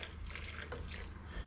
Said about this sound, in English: Into it, I'm going to put a little bit of water